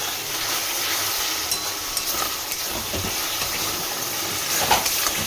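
Ground spices with Kashmiri chili powder fry in oil in a pan, giving a steady close hiss and sizzle with faint scrapes of a spatula, no voices.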